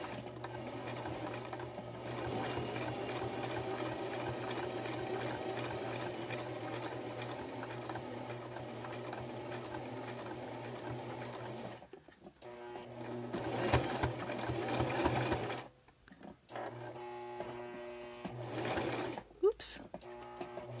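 A sewing machine stitching a fabric circle for an earbud pouch, running in a steady close whirring hum that pauses and restarts as the sewer slows for the curve, with people talking over and between the runs.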